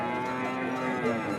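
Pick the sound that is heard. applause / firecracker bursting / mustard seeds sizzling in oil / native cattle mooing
native cattle mooing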